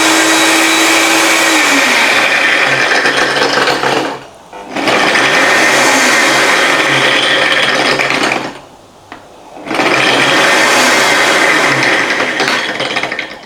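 A Kmart high power blender runs with a loud, steady whirring roar, switched off briefly twice and then started again, each restart rising quickly to full speed, with no voices.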